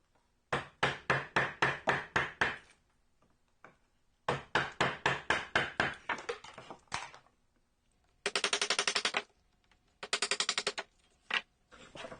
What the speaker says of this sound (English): and then I can chisel that out.